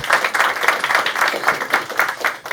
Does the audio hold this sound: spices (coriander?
no